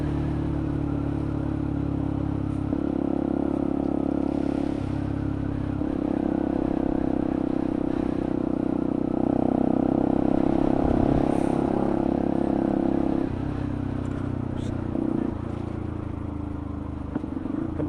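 A passing vehicle is heard from a Benelli TNT 125 motorcycle riding in the rain, steady engine drone and road noise continuous throughout with pitch shifting as traffic goes by.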